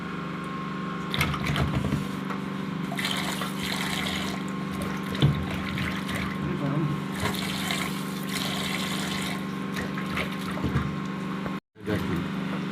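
Hot water poured over freshly washed koi fish, a continuous running, trickling flow with low steady hum beneath and brief clatters, no voices.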